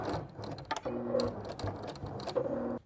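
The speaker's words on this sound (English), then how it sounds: "Now let's sew around the edges." A sewing machine stitching around the edges of fabric pieces for an Easter basket, a close, steady mechanical whir with rapid ticking needle strokes, running alone without pause.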